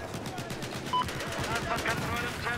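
Rapid bursts of gunfire crackle over a dense, noisy Battlefield 4 game soundscape, with repeated sharp shots running throughout.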